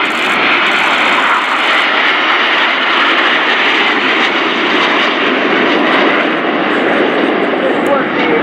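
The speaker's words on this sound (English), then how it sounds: "This was the amazing crossing of the heart of Frecce Tricolori" The Frecce Tricolori jet display team performs a crossing manoeuvre at RIAT, an air show. A loud, continuous, broadband jet roar is held throughout the clip without easing.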